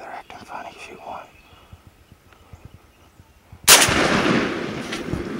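A single loud, close shotgun blast rings out during a bird hunt, its sharp report followed by a long sustained rumble and echo, after quiet whispered talk and faint rustling.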